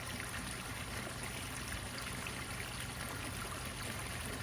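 Water runs continuously in a renovated backyard pond, a quiet, even trickling stream with no voices.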